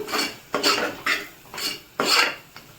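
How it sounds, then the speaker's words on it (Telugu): A utensil scrapes around a pan of brinjal curry in four or five rhythmic strokes, mixing in garam masala and turmeric, metallic and close, with no talking. "మసాలాలన్నీ మిక్స్ చేసుకుందాం మనము"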